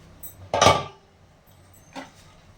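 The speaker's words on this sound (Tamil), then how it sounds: "சும்மா லேசாக தான் மூடி வைக்கிறேன்" A single soft clink of a lid set down on a pot of vegetable biryani, a short metallic clatter, then a fainter tap a moment later in a quiet room.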